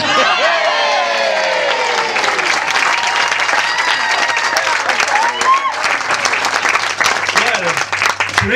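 Wedding guests applauding a father of the bride speech, loud sustained clapping from a full room with scattered cheers and whoops, continuing without talk.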